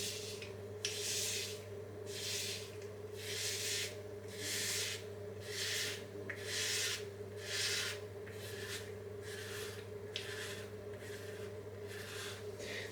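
A razor lathered with Lather Bros Devils On The Field scrapes hair off a shaved head in repeated rasping strokes, close and steady, about a dozen passes over a constant low hum.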